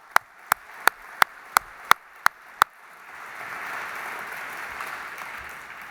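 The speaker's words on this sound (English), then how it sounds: "Let's give the ambassador another big round of applause." At an Auschwitz exhibition opening evening, eight sharp, evenly spaced claps ring out close by, then give way to a softer, diffuse wash of crowd applause for the ambassador.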